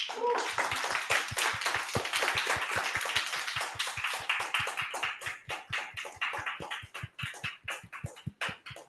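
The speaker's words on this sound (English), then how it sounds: "Guys, keep clapping." A small Toastmasters meeting audience claps steadily in a quick, even rhythm, close and fairly light, thinning out toward the end with a voice briefly heard.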